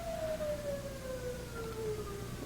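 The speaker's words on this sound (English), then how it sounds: "We were just listening to the sirens." A single siren wails faintly in the distance, its tone slowly falling, over a steady low background rumble.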